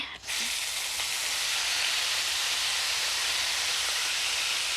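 Soft tofu sizzles in a hot frying pan, a steady loud hiss that begins almost at once and holds for a few seconds with no talk over it.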